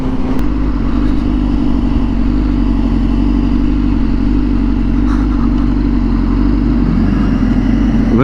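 A Honda Fireblade 1000RR-R SP motorcycle engine hums steadily at a loud, close level while cruising, a constant low drone with a slight rise in revs near the end.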